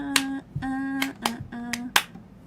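Hands clap in a steady beat along to a song during a livestreamed performance, about five sharp claps spaced evenly over a sustained sung or played tone.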